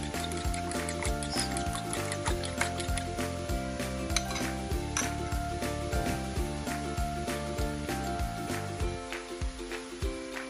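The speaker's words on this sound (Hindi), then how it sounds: "अब इसके ऊपर अंडे डालते हैं।" Eggs poured over potatoes frying in a pan sizzle steadily throughout, with scattered clinks and scrapes of a utensil against the cookware close by.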